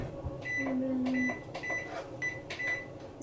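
A kitchen oven preheated to 170 degrees for baking a cheesecake gives a series of short, evenly spaced electronic beeps over a low room hum.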